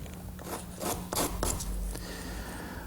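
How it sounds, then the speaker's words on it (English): A series of short scraping, rasping strokes of a sharp utility knife cutting out a wood patch on a chestnut desk, close and uneven in rhythm, with no voices. "a good sharp utility knife is all that's needed to remove the patch."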